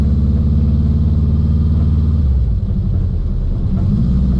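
A car rolls along on new wheels and tires with a steady, loud low engine and road rumble throughout, the tone shifting as it changes speed partway through.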